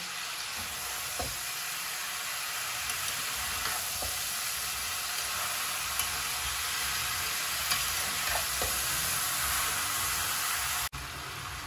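Chalta (elephant apple) pickle cooking in a wok gives a steady, close sizzle, with occasional soft stirring scrapes spaced through it and no talking.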